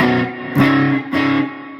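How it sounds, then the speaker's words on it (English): An electric guitar played through an amp's built-in reverb, strummed in two loud chords that ring out with a distorted, washy tail. "that's the amp reverb, which I'm quite happy with"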